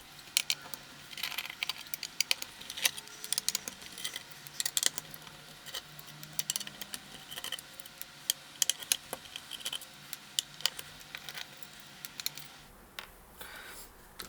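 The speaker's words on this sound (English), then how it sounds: "We're going to be removing all of these screws right here so that we can access the board that's inside of here." Small screws being taken out of a Ford Sync 3 APIM module housing, giving a scattered run of faint metallic ticks, clicks and light rattles throughout, fairly close but quiet, with no talking.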